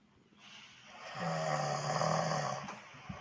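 A person snoring: a single long, rasping breath that swells, holds steady for over a second, then fades, fairly close.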